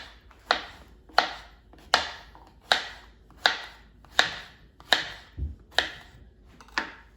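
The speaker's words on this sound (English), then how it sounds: "And then chop it into pieces." A knife chops zucchini into pieces on a cutting board, about ten crisp, evenly spaced strikes in a steady rhythm, close and clear with no talking.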